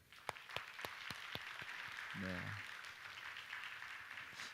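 A church congregation applauds together, a sustained wash of clapping from many hands at moderate distance, with a brief voice speaking over it.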